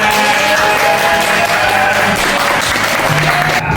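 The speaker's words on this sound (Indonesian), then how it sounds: "Tepuk tangannya." Applause at a large family gathering with prayers, a dense continuous wash of clapping from many hands that fills the whole stretch at steady loudness, with faint voices mixed in.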